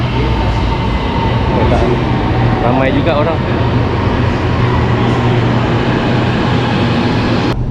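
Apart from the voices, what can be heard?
train arriving at a station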